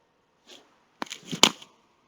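A man sneezes once in an online calculus class after pulling his headset away: a faint breath at first, then a sharp double burst, fairly quiet and off-mic.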